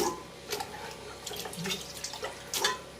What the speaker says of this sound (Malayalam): 3 പ്രാവശ്യം നല്ലതുപോലെ കഴുകി